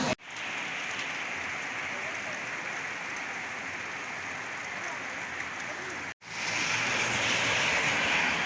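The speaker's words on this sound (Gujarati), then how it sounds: "તો હવાનો આમને કન્ટિન્યુ વરસાદ ચાલુ છે" Steady rain falls continuously outdoors over a rural farm area during the sowing season, a dense even hiss that carries on throughout with one brief dropout, and no voices are heard.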